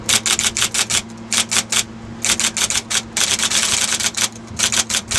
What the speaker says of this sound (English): I'll just try typing a little bit.